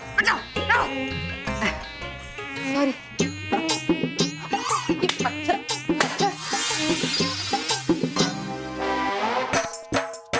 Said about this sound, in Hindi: मच्छर, ये मच्छर।